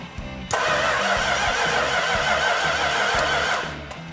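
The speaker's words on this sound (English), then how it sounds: "Crank it over." A 1967 Plymouth GTX with a 440 Super Commando V8 cranks briefly, then catches and roars into a loud, rumbling idle that holds for about three seconds before dropping off.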